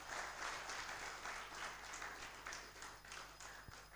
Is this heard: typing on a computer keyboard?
no